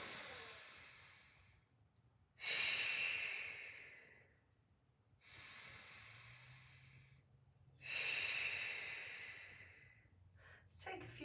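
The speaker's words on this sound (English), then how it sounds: "Bringing the breath into the nose, into the chest, it comes into the rib cage, and then bringing it out through the mouth." Slow, deep breaths during a Pilates session, drawn in through the nose and let out through the mouth, alternating in long even cycles of airy hiss, close and soft, with no speech.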